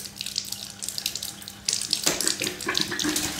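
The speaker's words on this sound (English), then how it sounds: "leave this until it's flowing fully with water." Water gushes from a household tap after the mains supply is turned back on, a steady hissing flow that grows louder and fuller partway through, with sputtering bursts as air clears from the pipe.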